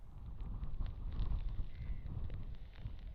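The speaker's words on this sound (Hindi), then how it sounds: "जो तेज हवाएं हैं वो अभी भी जारी हैं" Strong storm winds gust outdoors in Raigarh, a rough rumbling roar of wind buffeting the microphone with uneven surges, no voices heard.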